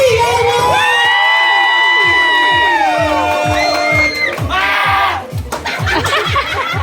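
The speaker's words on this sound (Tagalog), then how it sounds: "Parinig po ng malakas na palakpakan na may kasamang hiyawan" A loud crowd cheers and shouts with high-pitched yells and whoops over rhythmic clapping, which becomes more prominent toward the end.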